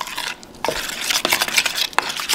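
Seasoned pork gets mixed with salt and pepper for shawarma: close, quick scraping and stirring strokes of a utensil in a bowl, with light clinks between them.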